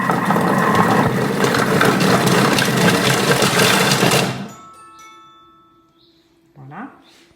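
A food processor whirs loudly at speed 7, chopping spring onions for Asian spring rolls for about four seconds before spinning down, leaving faint mechanical noise and a brief voice afterward.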